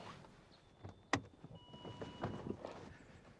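A truck door clunks sharply once near the middle, with rustling and shuffling movement before and after as someone climbs out of the cab.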